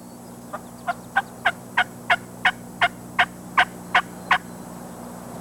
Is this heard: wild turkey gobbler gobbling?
yes